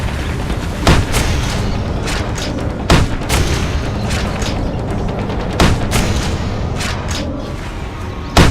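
Grenade launcher fire in the video game Tribes: Ascend, several loud booming shots at irregular intervals over a constant rumbling, noisy battle background.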